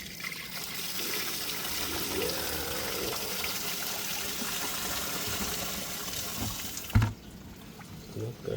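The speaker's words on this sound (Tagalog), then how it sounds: "try pressure wash na natin tangke." A pressure washer blasts a rusty, vinegar-soaked fuel tank from a Yamaha SZ 150 motorcycle, making a continuous close rushing spray of water that ends with a sharp knock and quieter dripping.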